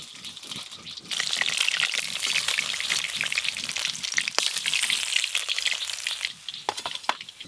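Pieces of katla fish fry in oil with a steady, loud sizzle that swells after the first second and keeps a crackling hiss throughout, with a few sharper pops near the end.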